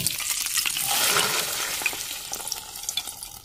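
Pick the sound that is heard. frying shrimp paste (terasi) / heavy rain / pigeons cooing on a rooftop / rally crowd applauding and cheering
frying shrimp paste (terasi)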